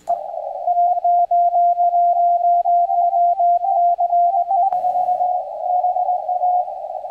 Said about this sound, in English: let's just listen to what a zero beat pileup sounds like to the